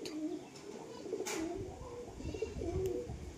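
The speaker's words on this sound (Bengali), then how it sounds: "ভালো হয়ে গেছে কবুতর।" Pigeons recovering from illness coo softly and repeatedly nearby, low throaty calls over quiet background.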